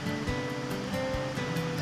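A waterfall and bubbling stream in the Cheaha Wilderness send up a steady, close rushing wash of water that holds at an even level with no voices.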